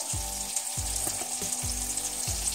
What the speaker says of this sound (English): You stir that in and let it thicken.